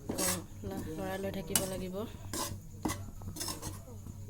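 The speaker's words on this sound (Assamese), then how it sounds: "এতিয়া পিঠাগুড়িখিনি অকণমান লৰাই লৈ" A utensil scrapes and stirs rice flour being dry-roasted in a pan, with repeated sharp scraping strokes against the metal while a person talks over it.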